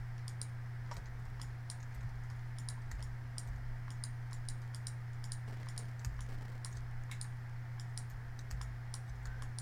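A computer mouse clicks faintly and repeatedly while the Control key is held during 3D modelling work, with light irregular clicks over a low steady electrical hum.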